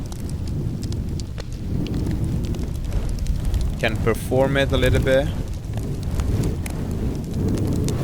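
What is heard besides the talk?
bonfire fire sound effect from Krotos Studio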